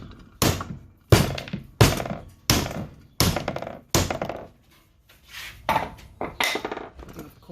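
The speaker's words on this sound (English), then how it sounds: "I'm going to continue to keep on hitting the spindle on this side right here." Hammer blows striking a spindle from a 1969 Mustang fastback, eight loud, sharp metallic impacts ringing briefly, spaced roughly evenly at first, then a softer, quicker cluster near the end.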